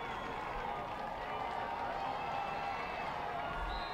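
A high school football crowd roars in a steady, broad wash of cheering and shouting from the stands, continuous and moderately loud throughout with no clear individual voices standing out.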